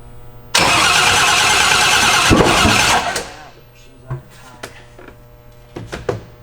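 A race car engine cranks and fires, bursting into a loud close roar that holds for a few seconds, then drops to a rough, uneven idle with sporadic pops and revs; a voice is heard around it.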